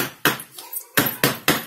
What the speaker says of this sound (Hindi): इसको हम कुकर में डालने के पहले थोड़ा टैप कर लेंगे,